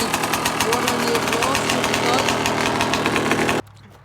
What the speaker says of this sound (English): I like to just start it up after every time washing, just to get any water in